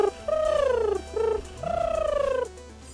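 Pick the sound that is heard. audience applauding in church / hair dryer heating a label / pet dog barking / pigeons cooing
pigeons cooing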